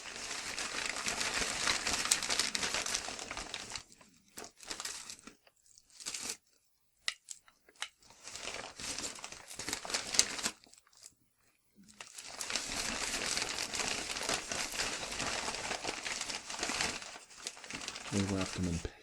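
Paper wrapping around tapered candles from a bookstore crinkles and rustles loudly and close up in long bursts, broken by short quiet pauses.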